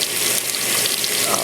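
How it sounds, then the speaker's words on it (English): A GE top-loading washing machine fills with water, a loud, steady rushing hiss with no breaks for the whole short stretch. "I'm going to let it fill up."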